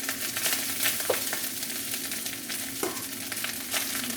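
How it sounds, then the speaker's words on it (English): Rice frying in a little oil in a pan for Jamaican ackee and saltfish, with a steady loud sizzle and occasional scraping stirs, close up and without talk. "Now I'm going to fry the rice."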